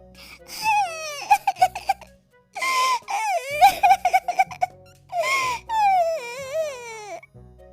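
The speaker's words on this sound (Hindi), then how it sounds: "उसे रोने की आवाज आती है" A high-pitched child crying in bursts of wailing sobs, close and loud, with brief pauses between outbursts.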